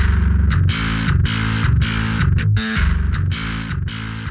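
Loud, gritty djent bass guitar, unprocessed by plugins, playing fast chugging riffs with short breaks, backed by punchy drums.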